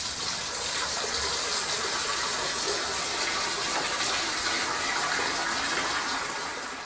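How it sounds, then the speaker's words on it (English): Water gushes forcefully from a tap in a loud, continuous rush with no talking. "then the water starts coming."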